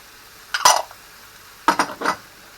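Finely diced red and yellow peppers are tipped into a pan with onions, giving a short clattering scrape, then a pause and two more bursts of scraping and sizzling clinks, close by.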